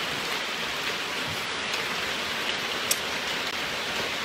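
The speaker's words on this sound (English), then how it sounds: "It starts raining again." Steady rain falls outdoors, a constant even hiss of drops with a few faint patters and no voices.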